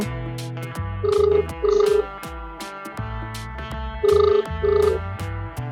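A telephone rings in two pairs of loud, steady electronic tones, with a pause between the pairs, over a busy background of other sounds.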